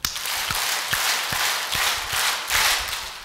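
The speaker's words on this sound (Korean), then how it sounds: "박수 일곱 번." A church retreat audience claps in rhythmic bursts, with several distinct sharp claps standing out over a steady wash of crowd noise, no voices speaking.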